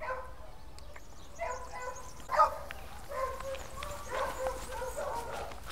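Beagle puppies of a hunting breed give faint, scattered yips and small barks, several short bursts over a quiet, hissy background.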